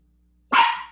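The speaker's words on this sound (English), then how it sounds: "Oh, there goes my loudmouth dog." Dog barking indoors, a single loud sharp bark that cuts in abruptly after near silence and quickly trails off, with no talking.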